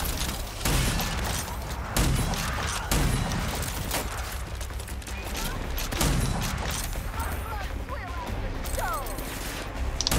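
Gunfire in the video game Rage 2, with loud sharp shots at roughly regular intervals mixed with mechanical clanks and game effects, fairly close and dense throughout.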